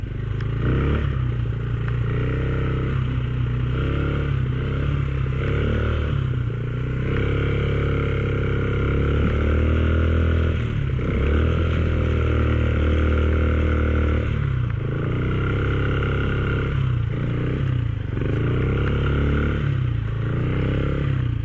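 Several motorcycles ride through a river crossing, engines revving and droning continuously with clattering and splashing water, fairly loud and close with no talk.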